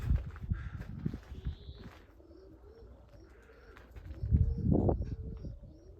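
Domestic pigeons in Budapest let out to fly freely, cooing softly with a few chirps and a flurry of wing flaps and shuffling, fairly close and otherwise free of talk.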